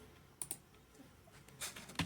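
A few sharp computer mouse clicks on a RAR archive during a file-conversion walkthrough, two quick clicks near the start and another burst near the end, faint and close against quiet room noise.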